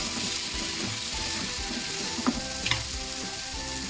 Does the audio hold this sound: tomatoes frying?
yes